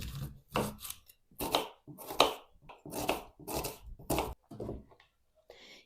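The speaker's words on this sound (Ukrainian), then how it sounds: "Тепер мені знадобиться цибуля. У мене така невеличка, тому буду використовувати три штучки. І нарізаю півкільцями." A knife cuts three small onions into half rings on a cutting board, about nine sharp, evenly spaced chops close up, with short pauses between them and no talking.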